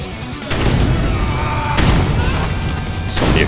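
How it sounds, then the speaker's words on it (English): In the video game Rise of the Triad, heavy explosions boom loudly and close, three big blasts at irregular intervals with dense rumbling roar between them. "So many explosions."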